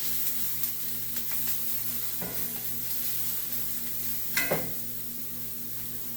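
Onions nearly browned sizzle steadily in a hot pan while a utensil stirs and scrapes through them, with a couple of sharper clatters partway through; no voices.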